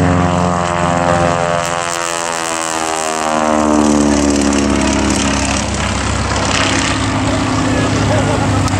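Travel Air Mystery Ship powered by a 300-horsepower Lycoming R680 radial engine, a loud propeller drone passing at an airshow, pitch sliding lower as it goes by and then rumbling on steadily.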